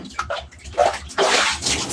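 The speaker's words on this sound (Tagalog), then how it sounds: "simulan na natin magbuhos ng tubig dahil hindi tayo kasya sa timba" Water is poured from a dipper into a bucket in a few gushing, splashing surges, the last one longer and louder, close by.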